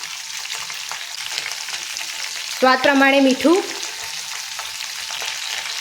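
Potatoes fry with ivy gourd in a pan as a strong, continuous sizzle sounds close by, with a person speaking briefly over it partway through.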